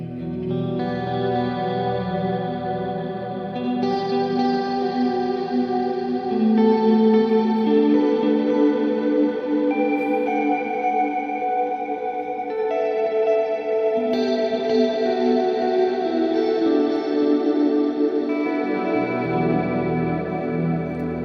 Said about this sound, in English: that is reverb and delay coming from the AX8 along with the amp simulation and compression